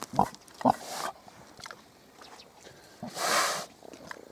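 Pigs grunt and snort in short, close bursts, followed by a longer rough squeal-like noise; no talking.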